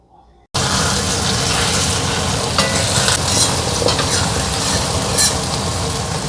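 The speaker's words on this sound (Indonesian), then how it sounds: "ini kecambah yang ditumis sama kucai" Bean sprouts with garlic chives stir-fry in a pan. After a brief quiet start, a loud, continuous sizzle begins abruptly and holds steady, with scraping stirs and occasional crackles throughout.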